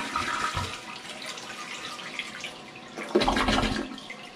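A partly clogged home toilet that is not flowing or refilling properly flushes with a rushing, gurgling wash of water, fairly close, then surges into a louder burst of draining water near the end.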